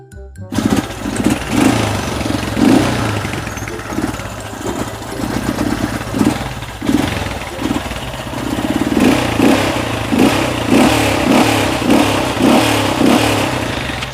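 Honda Wave 125i motorcycle engine running steadily after an oil change, a close, continuous idle with a low chugging rumble and occasional light revs, no talking over it.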